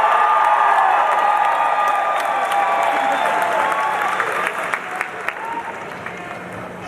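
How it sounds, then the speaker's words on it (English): A political gathering audience from Southern Maine bursts into loud applause with cheering and whoops, a dense wash of clapping that gradually thins, leaving scattered individual claps near the end. "Who here is from Southern Maine, south of Augusta? Let's hear some applause."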